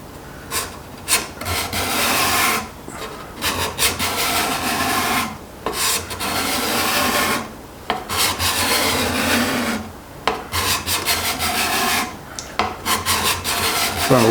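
A card scraper shaves wood in a series of about seven rasping strokes, each lasting a second or two and separated by brief pauses, close and clear with no talking.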